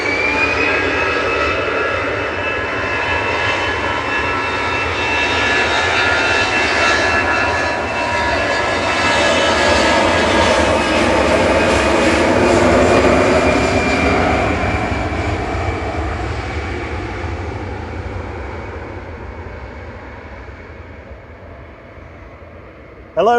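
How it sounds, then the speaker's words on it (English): An EasyJet jet airliner departs Manchester Airport bound for Corfu, its loud engine roar swelling with a shifting whine as it passes, then gradually fading into the distance. "this is EasyJet to Corfu"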